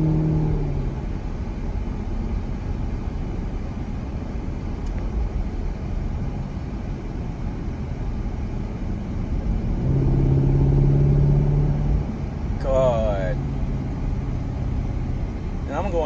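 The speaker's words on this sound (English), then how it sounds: "But the car sounds amazing." A car with its secondary catalytic converters deleted drives on a road behind slower traffic, its engine a steady low rumble that swells briefly, with a voice talking partway through.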